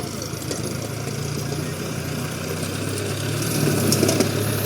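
A tractor engine idling and running steadily nearby with a low, continuous mechanical drone, no clear voices over it, the level rising slightly toward the end.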